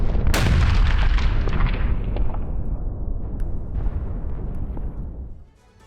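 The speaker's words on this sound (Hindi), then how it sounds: "ईस्टर्न फ्रंट लाइन पर गाइडेड शेल से हमले हुए।" A guided artillery shell strikes on an eastern front line, one heavy near boom followed by a long, rolling rumble that slowly fades over several seconds.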